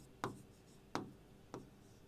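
Three distinct pen or chalk strokes during a higher-math lesson on straight-line geometry, evenly spaced about two-thirds of a second apart, close and fairly quiet against a faint room background.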